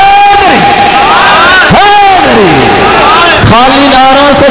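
A crowd at a Punjabi mushaira roars back a religious slogan in unison, a loud massed shout that rises and falls, with a leading voice calling out between the responses.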